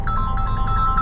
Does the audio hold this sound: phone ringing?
yes